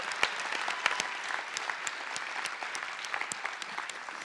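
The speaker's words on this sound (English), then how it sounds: "another round of applause." An audience applauds warmly, many hands clapping in a steady, sustained burst without any talking.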